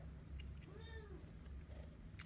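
A single cat meow, a faint, brief, drawn-out call rising and falling midway through, set in a quiet room over a low background hum.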